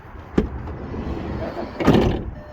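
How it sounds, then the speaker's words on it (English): Volkswagen Multivan 2022 sliding side door, a sharp click of the latch followed by a rolling slide and a thudding close, near and moderately loud. "So the new Multivan has 2 sliding doors,"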